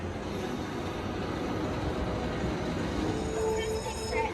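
Steady roar of a roller coaster train running at SeaWorld Orlando, a continuous rumbling wash with faint squealing tones late on, heard alone at moderate distance.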